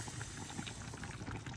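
Sarmale cabbage rolls bubble and simmer in a clay pot just taken from the oven, a dense, steady crackle of popping bubbles heard close up, with no voices.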